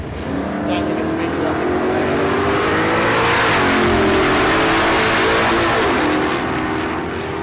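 An HQ GDS Monaro with a Chev V8 and another drag car run down the strip, making a loud, close, continuous engine roar that climbs steadily in pitch for several seconds before easing off.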